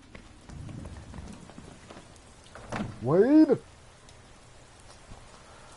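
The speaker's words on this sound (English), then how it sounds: "Wow, look at those rain graphics." Rain falls steadily throughout the Madden 18 video game scene, a soft broadband hiss under a voice, which briefly shouts.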